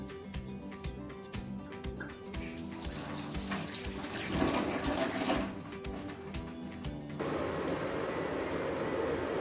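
Water runs steadily from a tap into a cooking pot being set up for steaming, a continuous close splashing rush that shifts pitch partway through as the pot fills, with no talking.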